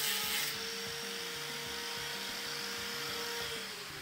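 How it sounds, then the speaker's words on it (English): A grinder smooths the rough edge of a cut shelf-reinforcement piece, producing a steady high whine with a rhythmic low pulsing throughout, slightly louder at the start. "I'll go ahead and rub the rough piece against the side of the grinder to get a smoother feel to it"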